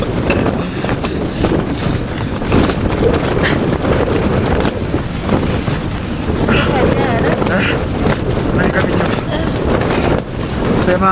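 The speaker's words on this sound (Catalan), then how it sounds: "Fa molt vent i és insuportable." Strong wind on Everest at 7,500 metres batters the microphone in loud, continuous roaring gusts for the whole stretch, with no quiet gaps.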